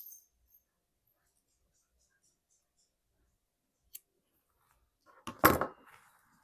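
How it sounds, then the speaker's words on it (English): Scissors snip through sewing thread after stitching a fabric yo-yo, giving a brief, close crunchy cut near the end after a few faint clicks in near silence. "let's cut off our thread"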